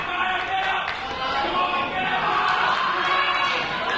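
A Barrie Wrestling crowd cheering and chattering at a live indoor wrestling show, a steady, loud wash of voices with scattered thumps.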